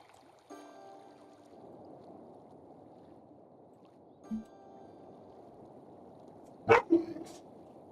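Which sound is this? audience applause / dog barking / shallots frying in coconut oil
dog barking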